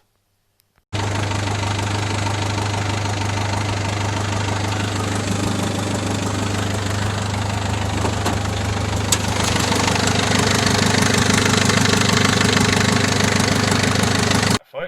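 Loud, steady engine drone with a leaking turbo flange gasket, running close and continuously for about fourteen seconds after an abrupt start, then cutting off sharply near the end.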